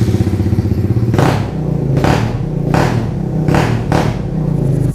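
Motorcycle fitted with a super loud exhaust, revved hard in four or five sharp, close bursts over a steady rumbling idle, each blip loud and rasping before dropping back.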